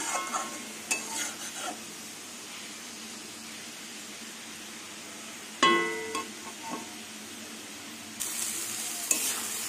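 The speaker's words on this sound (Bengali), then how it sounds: "লাল শাক ভাজা হয়ে গেছে, রসুন পেঁয়াজ দিয়ে একদম ভাজা ভাজা করে নিয়েছি।" Red amaranth greens fry quietly in a pan with garlic and onion, a soft, low sizzle broken by a few scraping stirs of a utensil.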